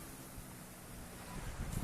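Sea waves rolling onto a shore, a steady broadband wash with wind noise on the microphone, growing slightly louder and rougher toward the end, with no talk.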